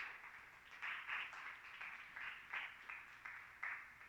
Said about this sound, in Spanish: Denle un aplauso al Señor, amados hermanos